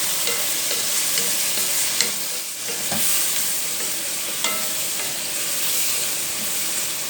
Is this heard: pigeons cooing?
no